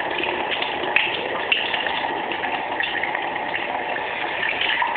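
Tap water runs steadily over a Swiss Army knife, a continuous splashing gush with small clinks of metal under the stream.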